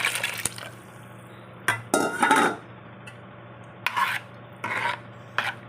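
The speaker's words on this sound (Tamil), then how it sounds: "இந்த மாதிரி ஸ்பூன் வச்சு கரண்டி வச்சுக்கோங்க இதை கலக்கி வச்சுக்கோங்க" A spoon scrapes and stirs fish curry with drumsticks (moringa) in a pot in several short bursts, with pauses of quiet in between and light clinks against the metal.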